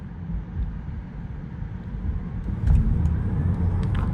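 Steady low road rumble and wind noise from a Tesla Model 3 Performance electric car on the move, rising slightly as it speeds up, with no engine note.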